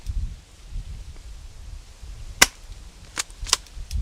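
Franchi SAS12 short airsoft pump shotgun firing 0.20 g BBs, a few sharp separate snaps against a quiet background, the pump action shuffling faintly between shots.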